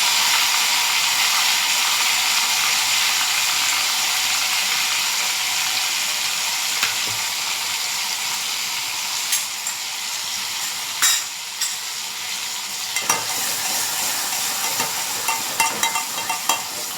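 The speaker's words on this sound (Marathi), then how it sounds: "आपलं तेल तापलेलं आहे. त्याच्यामध्ये आपण थोडंसं हिरवं वाटण ॲड करूया." Green masala paste sizzles and fries in hot oil in a pan, a steady broadband hiss running throughout with occasional stirring clinks and scrapes.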